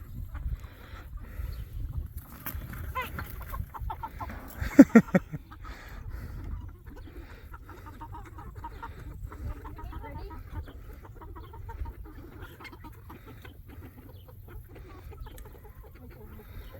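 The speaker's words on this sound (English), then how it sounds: "But that rooster, he's one of our young roosters." Low, scattered clucking from a young rooster with farmyard noise throughout, including a brief louder burst of activity near the middle.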